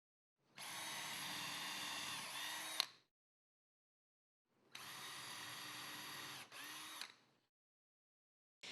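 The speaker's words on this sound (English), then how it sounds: "mark, drill, and countersink 5 pilot holes 7/8 of an inch from the top long edge of the rear rail" A power drill bores pilot holes into a wooden bed rail in two loud, close bursts of steady whine, each lasting a couple of seconds with a short pause between and a brief interruption in the second.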